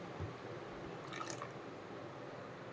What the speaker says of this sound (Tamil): இது கூடயே 50 கிராம் புளி ஊற வச்சு தண்ணி எடுத்து வச்சுருக்கேன், அதையும் உள்ளே ஊற்றிக்கலாம்.